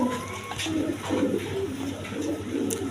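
A pair of silver-coloured racer pigeons, male and female, coo softly and repeatedly at close range, with low rolling calls over steady background hum.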